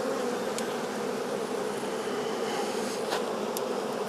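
Honeybees packed into a very crowded hive, a dense continuous buzzing drone, close and steady, with no speech over it.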